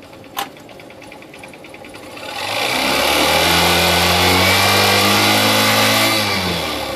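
A motorcycle engine with a carburettor fault revs slowly under gradual throttle, climbing from a quiet idle into a loud, sustained mid-pitched drone that holds steady and then eases off slightly.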